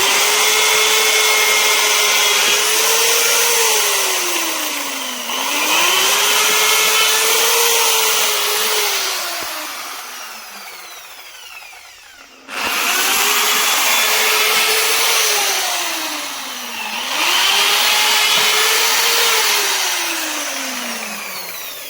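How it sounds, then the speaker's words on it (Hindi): A drill bores holes into a new wooden door being built by carpenters, its motor whirring loudly in long steady runs that dip and rise in pitch as the bit bites, with a brief pause midway before drilling resumes. "अब इसमें जो है ड्रिल के माध्यम से इस प्रकार से होल बना करके इसमें कील ठोकी जाएगी"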